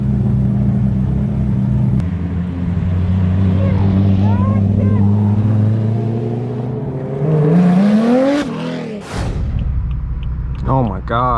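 A Ferrari F40 supercar pulls away from a car meet, building from a rumbling idle into a rising, revving engine note that peaks and then fades. Another engine and people talking are heard nearby.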